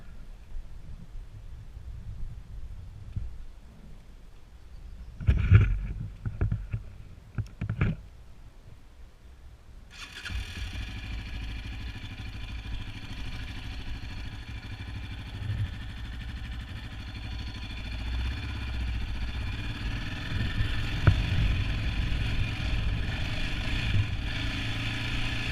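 A 2020 Yamaha Raptor 700 ATV engine runs steadily and fairly loud from about ten seconds on, a continuous ride noise with faint rises, after a few brief knocks and bumps early on.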